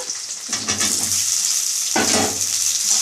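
Potatoes fry in a pan with onion, a close, loud sizzle broken by two bursts of stirring that swell the hiss, no voices.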